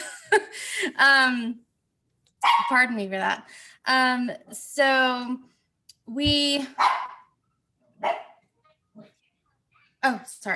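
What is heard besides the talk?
dog barking indoors at home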